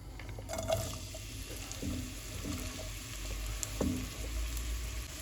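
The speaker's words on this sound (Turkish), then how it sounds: "Bir kahve fincanı sıvı yağını ilave ediyoruz. Ve doğradığımız soğanları da ilave ediyoruz." Soft, steady sizzling of chopped onions frying in oil, with a few light clinks and stirring sounds over a low background hum.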